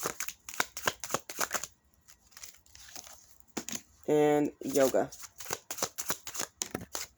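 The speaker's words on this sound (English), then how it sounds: "sometimes I like to shuffle and reshuffle." Tarot cards are shuffled in quick, crisp riffling bursts, repeated several times close up, with a brief spoken phrase in the middle.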